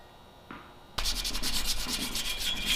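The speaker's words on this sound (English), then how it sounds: "Now I'm giving all the areas that I couldn't reach with the grinder just a light sanding." Light hand sanding scrubs rust off a forged iron door handle in spots a grinder could not reach, a steady close rasping rub after a brief quiet start.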